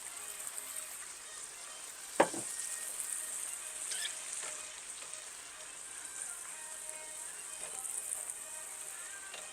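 Browned beef in butter sizzling after a dash of Worcestershire sauce, for beef stroganoff; a soft, steady frying hiss with one sharp clatter early on and light scraping.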